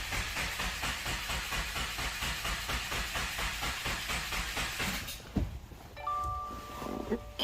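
A Subaru WRX 2.0 engine cranks over without firing after its valve shims were replaced, a rapid, even chugging of the starter for about five seconds, then stopping and leaving faint clicks and hiss.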